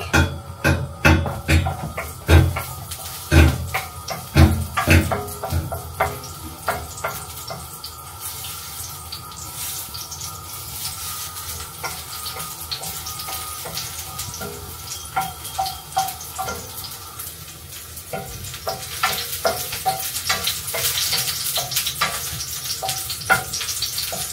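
Garlic fries in olive oil in a pan, giving a continuous close sizzle with scraping and stirring clatter, busier at the start and steady throughout.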